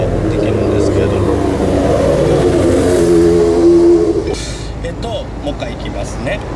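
A car with a manual gearbox pulls away on a half clutch, its engine rising in a smooth revving hum and then easing off, close by, while someone talks over it.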